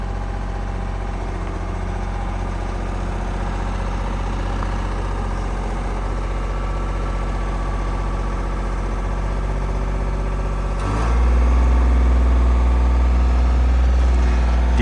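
Diesel engine of construction machinery digging up a water main runs steadily and loudly close by, then deepens into a heavier, louder rumble near the end.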